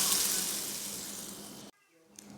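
Ginger and garlic paste sautéing in a hot pan gives a loud, hissing sizzle that tapers off and then cuts out abruptly, followed by quiet with a faint clink.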